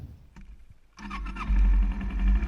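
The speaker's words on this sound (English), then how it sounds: "start the bike and let it idle for about 5 minutes" A 2011 Kawasaki Ninja 250 motorcycle engine cranks and catches after a quiet second, then settles into a loud, steady idle rumble close by.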